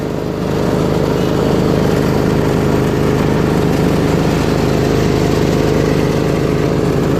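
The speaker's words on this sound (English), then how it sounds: "Engine runs great." A Briggs & Stratton Intek 24 HP engine on a Husqvarna 2448T riding lawn tractor runs steadily, a loud, close, even drone that holds without change from start to finish.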